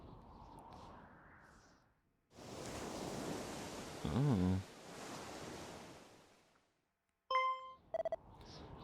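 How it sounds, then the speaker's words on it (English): Ocean waves from Dragon Quest I & II HD-2D Remake wash in soft, steady surges, broken by brief gaps and a few bright chime tones near the end, with a single short spoken exclamation. "I hear waves."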